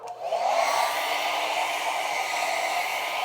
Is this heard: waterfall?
no